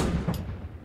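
A tank cannon fires once in the video game Post Scriptum, a single deep boom with a short sharp crack, fading into a low rumbling tail.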